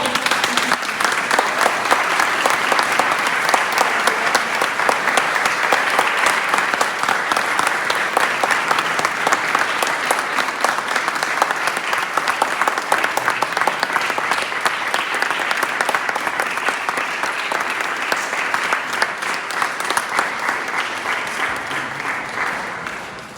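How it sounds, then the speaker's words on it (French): A church congregation at a Sunday sacraments mass claps steadily and loudly for its children, a dense, sustained wash of applause filling the space from start to finish with no break. "applaudissez pour vos enfants"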